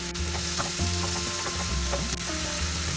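Chopped tomatoes go into a pan of soya keema masala: a loud, close, continuous sizzle and frying crackle with soft stirring scrapes throughout, no voices.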